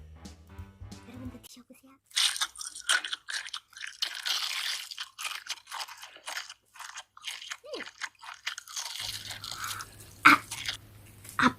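Bone-in fried chicken is bitten and chewed up close, producing repeated loud, crisp crunches in irregular bursts after a quiet opening.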